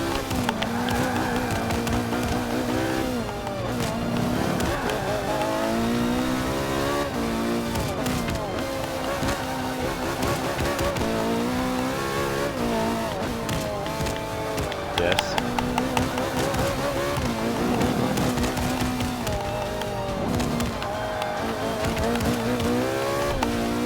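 Race car engines in Forza Motorsport 5, loud and steady with repeated pitch sweeps as gears change, occasional tire squeal, and a voice talking over the racing.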